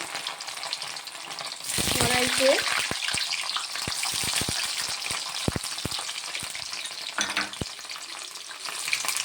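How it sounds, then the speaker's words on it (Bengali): Paneer pieces hiss and crackle as they drop into hot oil in a wok over low flame, a steady loud sizzle with clattering stirring taps, while someone talks briefly in the clip. "ওই গরম তেলের মধ্যে পনিরটা ছেড়ে দিলাম।"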